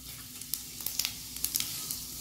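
Cumin, mustard seeds, chana dal and urad dal fry in hot oil with a spoon of ghee on low heat, a soft steady sizzle with light scattered pops and crackles.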